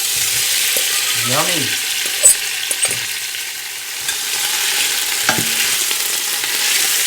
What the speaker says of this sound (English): Meat goes into the big pot.